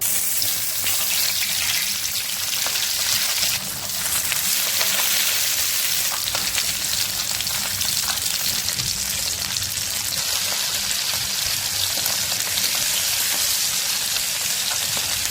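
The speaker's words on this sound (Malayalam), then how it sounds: "ഇത് അധികം ഡീപ്പ് ഫ്രൈ വേണ്ട ഷാലോ ഫ്രൈ ആയിട്ട് എടുത്താൽ മതി" Marinated chicken shallow-fries in sunflower oil for chicken majboos, a dense, even hiss of sizzling that holds steady and close throughout, with no talk.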